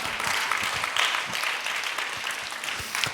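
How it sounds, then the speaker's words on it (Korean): A church congregation at an Easter revival service claps steadily and fairly close, a dense patter of hands that continues evenly throughout. "이거 박수 쳐야 되는 거 아니에요?"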